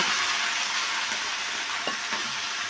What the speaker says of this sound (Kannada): ಈ ಲೈಟಾಗೆ ಇದು ಬೆಂಡೆಕಾಯಿ ಫ್ರೈ ಆಗೈತೆ, ಜಾಸ್ತಿ ಸೀಸೋದು ಬೇಡ